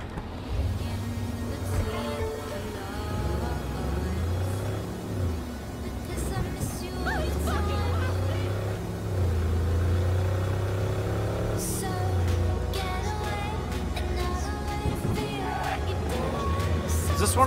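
A car is driven in the Cyberpunk 2077 video game, its engine humming and shifting pitch steadily throughout, mixed with music and other game sounds.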